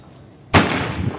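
A single sharp bang of a small Diwali firecracker bursting in the air after a moment of quiet, followed by a short fading rumble.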